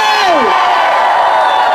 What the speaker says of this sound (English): Big cheer for all of you.